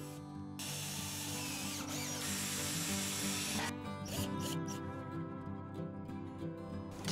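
A cordless screwdriver driving screws while siding is fitted to a roof eave, whirring in long close bursts with a ratcheting clutch, then stopping for scattered clicks.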